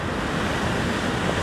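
Ocean surf surges against a rock fishing ledge at Avoca, a steady loud roar of churning water and spray with wind noise, close and continuous with no distinct breaks.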